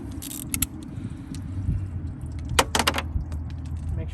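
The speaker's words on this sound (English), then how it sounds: "We're going to hold it with pliers and then try to unscrew the washer off." On a Honda Accord, pliers hold a washer while it is unscrewed, producing scattered close metallic clicks and scrapes over a low background rumble, with a brief cluster of sharp taps midway.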